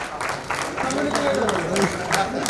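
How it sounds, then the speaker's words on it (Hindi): Applause at an official ceremony where athletes receive appointment letters, a burst of crowd clapping in uneven pulses, moderately loud, with voices talking over it. "तालियां"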